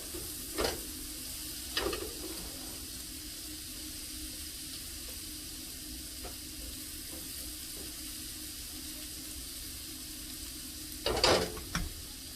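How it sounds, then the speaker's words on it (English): Onions and garlic sautéing in a pan, a faint steady sizzle with a low hum behind it and a few sparse stir clicks, the loudest burst near the end, quiet and without speech. "cook the onions and the garlic"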